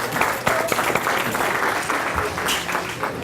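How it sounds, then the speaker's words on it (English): A seated audience at a talk breaks into full, continuous applause, many hands clapping densely and loudly throughout with a faint murmur underneath. "Give yourselves a round of applause."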